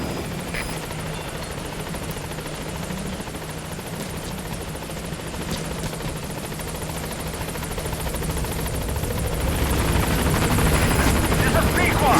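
A helicopter in Metal Gear Solid V arrives at a landing zone, its steady rotor thrum and turbine whine growing louder and nearer toward the end, with a radio voice speaking over it.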